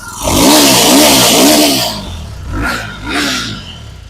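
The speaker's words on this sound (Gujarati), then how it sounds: "એન્જિનનું તમને આ વોઇસ સંભળાવી દો" A powerful liquid-cooled motorcycle engine runs close by, revved in three quick rising-and-falling bursts before dropping to a lower idle, then blipped twice more in short sharp pulses.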